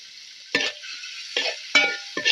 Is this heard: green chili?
yes